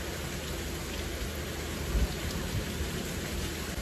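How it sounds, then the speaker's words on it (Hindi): Heavy rain pours steadily during a rainy day at home, a dense continuous hiss of drops hitting surfaces, close and even throughout, with a few dull low thuds. "कितनी तेज बारिश है"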